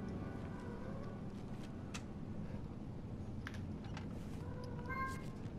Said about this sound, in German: Nicht wundern, Leute, das ist nur meine Katze.